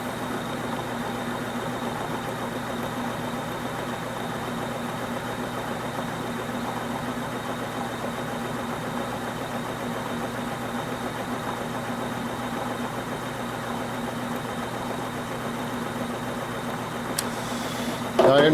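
An electric motor spins flywheels mounted on a shaft in a Kromrey-patent generator setup, a steady mid-pitched whir and hum holding unchanged throughout, close and continuous with no voices.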